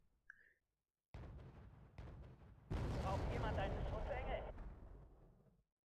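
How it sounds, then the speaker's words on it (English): Mortar fire in the real-time strategy game Wargame: Red Dragon: two sharp thumping launches, then a longer heavy rumbling blast that fades out, heard close and loud with no talk over it. "It's mortar."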